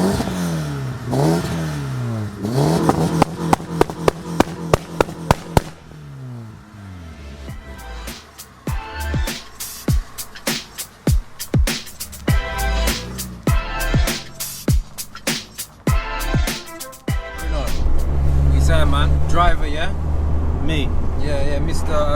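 A modified BMW 116i sleeper hatchback pulls away and drives on the road, its engine revving up through the gears with repeated sharp shifts and clattering pops, then settling into a steady loud drone near the end.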